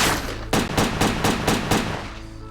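Rapid gunfire in the video game Headhunter, a quick run of about seven loud, evenly spaced shots over roughly two seconds, with no talking over it.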